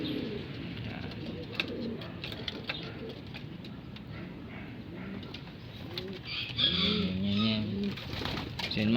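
Pigeons coo in soft, throaty, repeated calls close by, with a steady background murmur of other birds and faint voices, the cooing growing louder toward the end.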